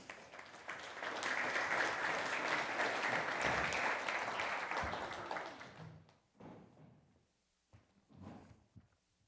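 Audience applause welcoming a speaker at the People Analytics 2024 conference, a sustained round of clapping from a crowd that swells and then fades out after about six seconds, followed by scattered footsteps and knocks.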